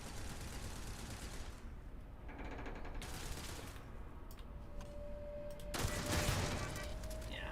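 Automated turrets fire in the Starfield video game, a steady dense rattle of gunfire mixed with mechanical ticking, swelling louder near the end with a sustained tone running underneath.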